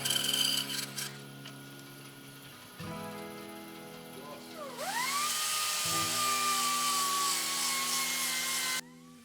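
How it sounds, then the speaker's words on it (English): A power sander whines at high speed, its pitch swooping as it grinds against a wooden floor, loud and close with a mechanical hum underneath. "Now it's sanding."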